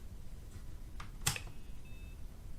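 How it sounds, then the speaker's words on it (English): A BBC Micro computer gives a short, thin electronic startup beep after a brief click, with a faint steady hum in the background. "oh, I hear a beep"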